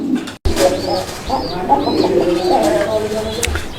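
A pair of fancy pigeons coos close by in repeated soft, throaty warbling calls, layered over faint background murmur, after a brief clunk near the start.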